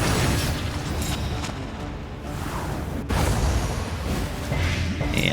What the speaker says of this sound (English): Plague Grenade.